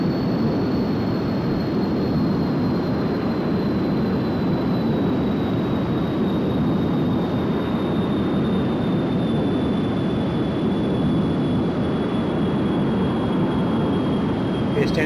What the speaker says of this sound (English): standing by to shut down the jet engines